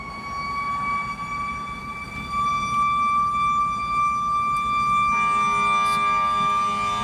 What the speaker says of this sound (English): when you hear the fire station, fire horn